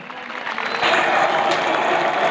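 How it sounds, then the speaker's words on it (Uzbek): Crowd clapping at a Navruz festival wrestling event in a village, a continuous spread of applause that swells after the first second, with voices mixed in. "Qarsak bo'lsin."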